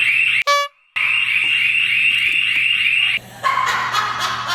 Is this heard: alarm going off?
yes